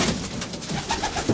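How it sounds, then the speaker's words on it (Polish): Racing pigeons coo in a loft, soft low murmuring coos layered over a busy rustling background, close and continuous. "teraz są gołębie trochę zmieszane"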